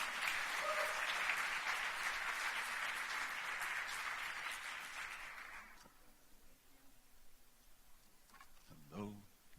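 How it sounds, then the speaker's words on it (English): Audience applause at a tech awards ceremony in Beirut, honoring award participants; steady dense clapping for about six seconds, then fading out, with a brief voice near the end. "If we can give them a round of applause"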